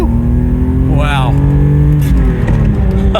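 BMW M635 CSi accelerating hard from 0 to 60, engine roaring steadily and rising in pitch from inside the car, with a man exclaiming excitedly over the noise.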